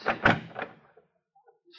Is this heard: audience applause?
no